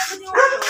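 A dog gives a couple of quick, sharp barks close by, slightly yippy in tone.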